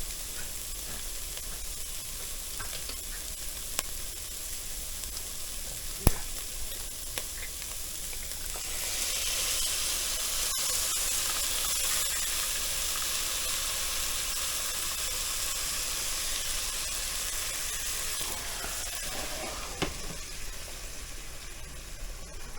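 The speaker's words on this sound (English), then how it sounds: "you want to open them up and drain them right into the pan pot." Canned tomatoes are poured into a hot pot, sending up a steady sizzle and hiss that grows louder midway and holds as a continuous frying wash, with a few faint clicks and no talk.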